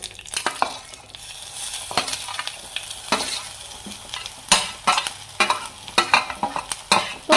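Crushed garlic, coconut and green chilli fry in hot oil, a continuous sizzle broken by repeated sharp scrapes and stirring knocks of a utensil against the pan, growing busier toward the end.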